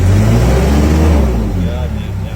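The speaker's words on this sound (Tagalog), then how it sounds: "Yan yung ginagamit naming sasakyan para maisakay namin sa mga truck yung mga basurang nakabox na." A loading vehicle used to lift boxed garbage onto trucks in South Korea runs nearby with a loud, steady engine rumble that eases slightly toward the end, while someone talks over it.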